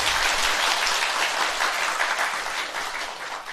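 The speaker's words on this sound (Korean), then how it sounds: "여러분 박수 부탁드릴게요." An audience at a Buddhist monk's dharma talk applauds after a haegeum performance, a steady wash of many hands clapping, fairly close, fading slightly toward the end.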